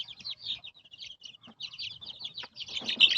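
Large-breed chickens clucking and peeping in a steady, busy chatter close by, growing a little louder near the end.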